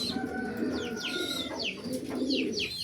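Pigeons cooing in repeated low, throaty phrases, with sharp higher chirps from other birds over steady background noise, several birds close by in a loft or coop.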